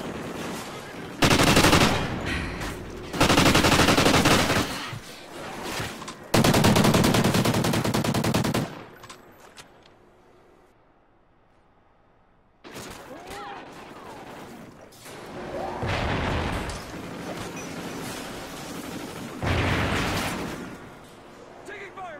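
Video game gunfire in a team battle over a control point, dense bursts of automatic fire with a quiet lull in the middle before shooting resumes, loud and close.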